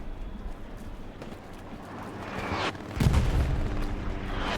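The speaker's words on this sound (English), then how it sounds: "Artillery is still bombing around." Artillery bombardment in Hell Let Loose, distant booming impacts rumbling under steady battlefield noise, with one heavier thud swelling partway through.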